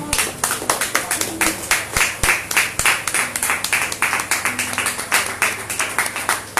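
A Spanish-speaking congregation claps hands for the King in unison, loud rhythmic rounds of claps at a steady, even beat, with a few sharper individual claps standing out.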